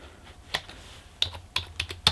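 Someone types a login name on a computer keyboard while setting up Jolicloud. Several sharp, separate key taps are heard alone at an uneven pace in a quiet room, close and moderately loud.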